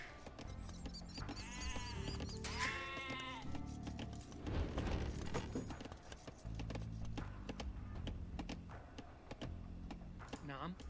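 Sheep in a medieval strategy game set around Saladin bleat near the town centre, several short nasal calls over game sound effects and background music, with a voice talking throughout.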